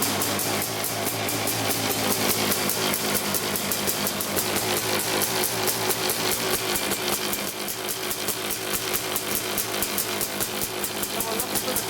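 A Quadzilla 500cc quad engine idles steadily with an even, rapid mechanical pulse, close and continuous throughout while it is checked for a coolant leak.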